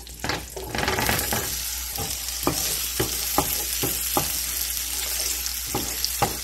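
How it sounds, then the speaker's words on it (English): Steady sizzling of onions frying in hot oil and butter, with a series of sharp clinks from stirring spaced through the clip. "as soon as it's sizzling, we can go ahead and add in our onion"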